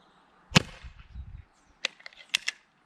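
Three or four sharp, snappy pops from an Umarex Trevox 4.5mm gas piston air pistol, one louder shot followed by a short burst of rumble, then quicker cracks close together.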